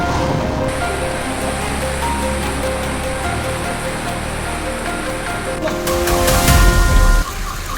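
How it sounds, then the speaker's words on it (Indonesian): Heavy rain whips across Bangkalan in East Java, driven by strong wind, and makes a dense, steady hiss of downpour. It swells and grows rougher near the end as a gust surges, and no voice is heard. "Angin kencang disertai hujan deras melanda sejumlah wilayah di Kabupaten Bangkalan, Jawa Timur."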